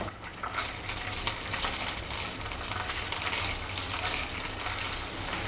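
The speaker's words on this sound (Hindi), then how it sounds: "कटी हुई हरी मिर्च डालेंगे" Chopped green chillies sizzle in hot oil alongside ginger-garlic paste, a steady close hiss and crackle of frying that holds evenly throughout with no voices.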